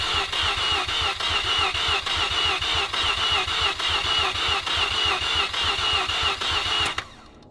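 A Mazda RX7 rotary engine cranks over on the starter during a compression test on the trailing first rotor, giving a fast, even, pulsing churn, loud and close, that runs for about seven seconds before stopping abruptly.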